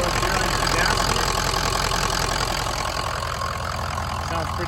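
A loud two-wheel-drive truck engine with an upgraded turbo and an extreme rumble tune idles with a steady deep rumble and a faint high turbo whine layered on top, running continuously.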